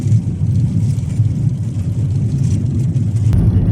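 A used Soviet Lada's engine drones as the car drives, a steady low rumble from inside the cabin with a brief knock near the end.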